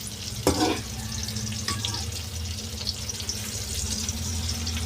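Sardines sautéing in a pan for a breakfast ginisang sardinas, a steady close sizzle and fry with a brief clatter of stirring near the start.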